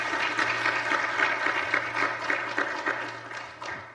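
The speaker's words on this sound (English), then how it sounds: "Please give a round of applause to Gary McKay." A conference audience claps to welcome a speaker, with a steady patter of individual claps rising and falling in a moderate-sized room, plus a constant low hum underneath, then tapering off near the end.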